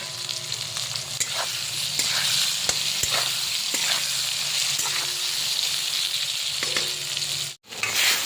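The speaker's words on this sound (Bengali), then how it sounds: "এবার যে ভাজা আলুগুলো দিয়ে দিলাম" Fried potatoes and eggplant stir-fried in a pan with a loud, continuous sizzle, repeated scraping and clatter from a spatula, then a brief sharp break near the end; no speech.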